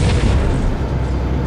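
Covenant tank fire in Halo bursts into a loud, rumbling explosion up close, a heavy boom that fills the whole moment and slowly decays.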